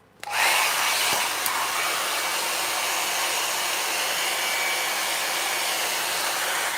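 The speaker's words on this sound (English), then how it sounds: "What I'm just going to do is plug the hairdryer in." A hairdryer is switched on and blows with a loud, steady rushing hiss that continues unchanged to the end, with no one talking.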